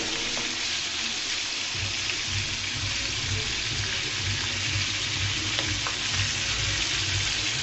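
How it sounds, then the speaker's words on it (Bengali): Fish frying in a pan after being flipped, producing a loud, even, close sizzle with faint crackles throughout and no voices. "উল্টিয়ে ভেজে নেব"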